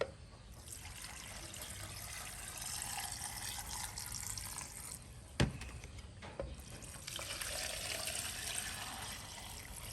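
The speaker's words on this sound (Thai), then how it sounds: "เทน้ำเส่เรื่อยๆครับ" Fish-sauce pickling liquid pours in a steady stream into jars of pickled crab, briefly interrupted by a sharp knock, then the pouring continues.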